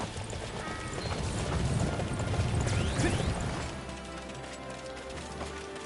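Horse hooves in Dynasty Warriors 9 clip-clop in a quick, steady rhythm, loud at first and then fading slightly, with faint clanking in the background.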